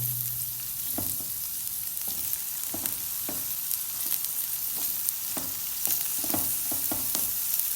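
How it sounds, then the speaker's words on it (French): Onions go into a pan where carrots are already frying, giving a steady sizzle broken by scattered scraping stirs and soft knocks of a utensil, close and moderately quiet. "Et là, on ajoute les oignons."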